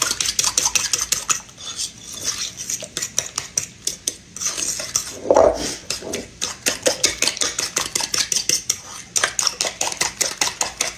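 An old fork beats rapidly against a bowl while mixing for an onion pie, giving a bright, continuous run of metallic clinks with a brief pause partway through.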